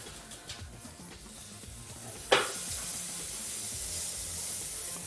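Beef rib steak sizzles on a barbecue, a soft crackling hiss that jumps into a sudden loud burst of sizzle when the meat is flipped over, then settles into a steady, brighter frying hiss.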